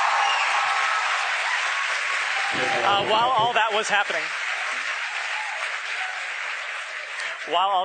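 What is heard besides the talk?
crowd cheering and applauding at SpaceX headquarters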